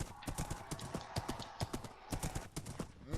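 Rapid clip-clop of a horse's hooves, sharp, quick, irregular knocks in a close, quiet take, resembling a trotting gait, with no speech.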